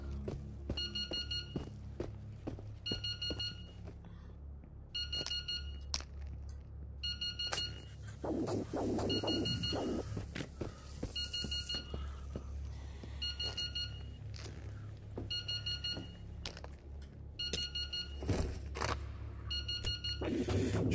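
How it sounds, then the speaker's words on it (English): Repeated electronic alarm beeping in the video game Into the Radius, sounding in regular short bursts throughout over a low ambient hum, with occasional footsteps and clunks in between. "What is this beeping?"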